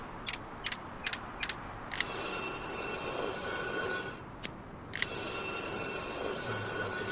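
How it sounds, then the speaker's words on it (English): Woodcutting in the Foundation game: a few quick, sharp chopping knocks against a busy ambient background of rustling and outdoor noise, with scattered later strikes. "Wood cutting."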